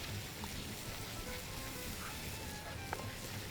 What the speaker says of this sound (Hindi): कीमे की भुनाई करेंगे